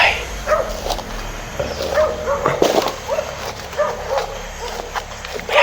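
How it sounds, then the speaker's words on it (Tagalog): A dog barks several times out in the open, somewhere near houses in mountain country, mid-distance, under ambient noise and footsteps, with people talking quietly nearby. "May aso."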